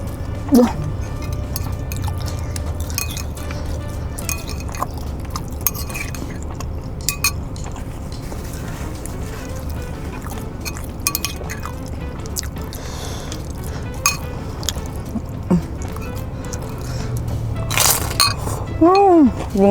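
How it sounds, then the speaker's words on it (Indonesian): Someone with newly fitted dental veneers chews dry bakso Malang meatballs, producing irregular crunchy clicks and clinks close to the mic over a long stretch, mixed with bursts of talking. "jadi ngunyah agak-agak riuh gitu"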